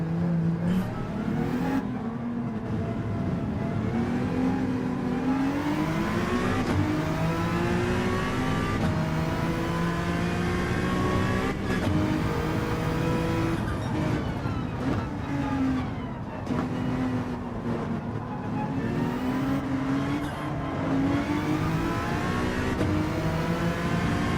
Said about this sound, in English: we're once again in a twin-turbo V6